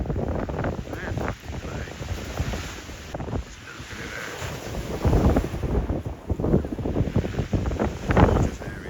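Strong wind buffeting the microphone on the beach at Durdle Door while waves roll and crash nearby, a loud gusty roar that surges and eases.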